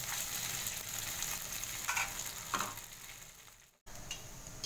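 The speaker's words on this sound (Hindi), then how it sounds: "हमारा इडली फ्राई हो रहा है" Leftover idli pieces fry in hot oil in a pan, giving a steady, fairly quiet sizzle with a few brief louder crackles and a momentary drop to near silence before the frying resumes.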